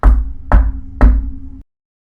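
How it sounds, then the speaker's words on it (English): Three firm knocks on a dressing room door, evenly spaced about half a second apart, close and loud with a short resonant ring after each rap. "So Tex and Lyra, you hear a knocking at your dressing room door."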